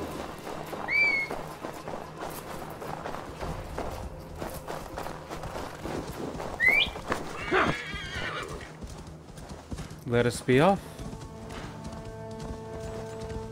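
A horse in Assassin's Creed Valhalla whinnies shrilly several times over steady clip-clopping hooves, the neighs standing out loud and near, with a short stretch of someone talking partway through.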